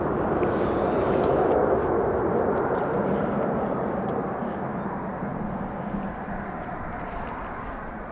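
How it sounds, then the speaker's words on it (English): A Virgin Atlantic airliner bound from Manchester to JFK passes overhead near Dublin Airport. Its broad, steady jet roar rumbles continuously and fades slowly over several seconds, with no talking. "You can hear it overhead. It was Virgin Atlantic, Manchester to JFK."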